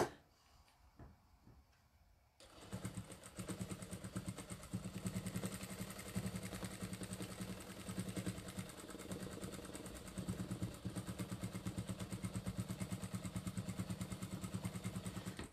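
Sewing machine stitching a fabric bag, a steady rapid ticking run of needle strokes that starts after a quiet moment and continues evenly at close range with no talk.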